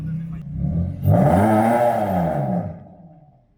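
Engine revving through a Spec D Tuning aftermarket exhaust, a loud, deep drone that swells and falls over about a second and a half, then fades out.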